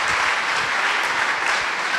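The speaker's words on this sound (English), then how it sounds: "Shall we clap for Jesus?" A church congregation applauds Jesus with dense, continuous clapping from many hands, even and full throughout.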